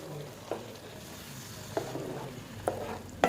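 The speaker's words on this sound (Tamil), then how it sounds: "எண்ணெயிலே வதக்கணும்" Nellore karam sautéing in oil in a pan, a soft steady sizzle with a few sharper clinks of stirring spaced through it, faint and close.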